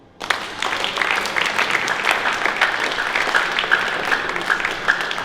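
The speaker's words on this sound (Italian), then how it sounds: "Applauso" Applause breaks out at a cycling tribute evening, starting abruptly and holding as a dense, even wash of many hands clapping through to the end.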